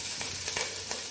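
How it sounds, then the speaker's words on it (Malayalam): Mustard seeds fry in hot oil over a low flame for a Kerala chicken curry, giving a brief, close sizzle with a few quick crackling pops. "ചെറുതായിട്ട് ഫ്ലെയിം കുറച്ച് വെച്ചതിന് ശേഷം നമ്മൾ കുറച്ച് കടുക് നമ്മളിട്ട് കൊടുക്കുകയാണ്."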